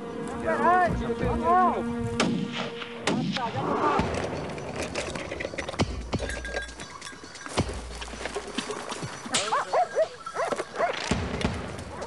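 A pack of Podenco hunting dogs in the Spanish countryside, hunting rabbits or wild boar, yelp, whine and bark in overlapping close bursts, with a person talking among the noise.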